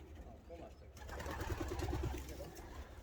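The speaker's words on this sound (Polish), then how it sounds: "Młode gołąbki już odstawione." Young pigeons coo in a loft, a soft repeated low burbling close by, mixed with a voice talking over them.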